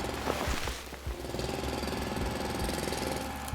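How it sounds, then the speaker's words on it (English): A mining drill in the Foundry factory-building game, boring into an alien plant on an alien planet, gives a steady, loud mechanical chatter that runs continuously after a few heavy thumps at the start. "We can drill this alien coconut."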